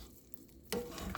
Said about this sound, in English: Stir it. I might need my 2 hands to really get the bottom going.